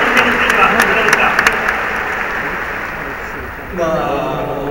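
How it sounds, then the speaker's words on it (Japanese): Baseball fans applaud in the stands at Nagoya Dome after a Chunichi Dragons home win over the Hanshin Tigers. The clapping is broad and steady, with a few sharper claps early on, and it dims toward the end as a voice begins. "ファンの大きな拍手を送ります。"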